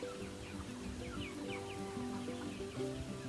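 Small meat chickens clucking at a farm, a soft run of short repeated clucks and murmurs over low background noise, close by and without speech.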